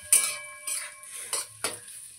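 Cabbage for cabbage Manchurian frying in a pan: four sharp, close spatula scrapes against the metal at roughly even intervals over a faint, quiet sizzle.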